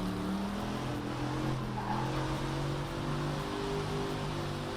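Race car in Project Cars 3 braking and turning into a corner, engine tone dipping and rising in sustained bands with a faint tire squeal, steady and close without talk.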